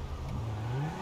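Car engine in GTA V revving hard as the vehicle breaks free, a steady mid-pitched roar with a rising tone, loud and close throughout a single second with no talk.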